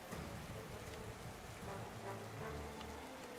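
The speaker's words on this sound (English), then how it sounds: "It's raining, that's why." Steady rain falls in a Pokémon video game as a dense, even hiss of droplets, constant and unbroken throughout with no other sounds on top.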